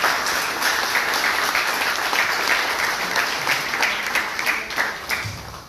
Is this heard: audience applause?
yes